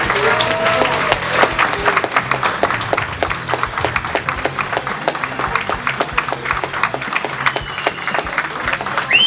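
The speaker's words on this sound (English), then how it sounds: "Give yourselves a round of applause." An audience breaks into sustained applause, a dense rapid patter of many hands clapping together at a steady level throughout, with a few voices mixed in.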